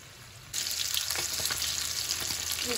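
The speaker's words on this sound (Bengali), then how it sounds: "রূপচাঁদা ভাজা প্রায় শেষ পর্যায়ে।" Rupchanda (pomfret) fish frying in a pan give off a loud, steady sizzle that starts abruptly and continues with crackling pops throughout.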